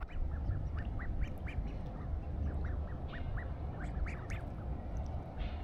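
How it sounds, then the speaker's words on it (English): Ducks at a pond in Schwerin quack repeatedly in quick, uneven bursts, some calls overlapping, over a low outdoor rumble with no speech. "Schwerin is home to a large population of ducks, swans and other water-loving birds, many of which come to visit this very pond every single day"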